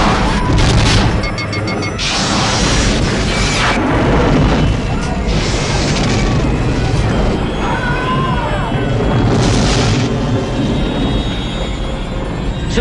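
Star Trek II starship combat effects: booming explosions and crashing blasts rumble loudly through the whole stretch, with bright zapping phaser tones cutting in near the start and several sweeping electronic whines later.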